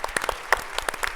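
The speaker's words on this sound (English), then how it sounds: "can I get a round of applause for all of the NSC team" Conference audience at a skills summit clapping, a sparse scatter of separate hand claps from a modest crowd, irregular and fairly quiet.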